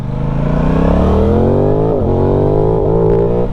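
An Aprilia Tuono V4 Factory motorcycle engine revs hard and close, its pitch climbing steadily over a few seconds with brief dips as it shifts, loud and continuous with no talking.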